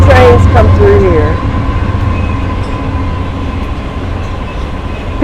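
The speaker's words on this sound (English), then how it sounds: "it's a train coming. We're going to give it a second to pass by." Train passing close to a roadside spot, a loud steady rumble of rolling rail cars with a brief squeal at the start, continuous and dominating for the whole stretch.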